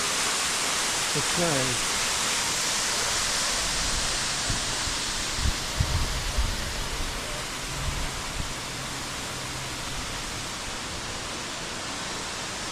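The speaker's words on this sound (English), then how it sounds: "but it's a beautiful waterfall" Waterfall at the base of the falls in Goldstream Provincial Park near Victoria, a modest flow of water giving a steady broadband rush throughout, with a few brief low thumps and a short spoken comment over it.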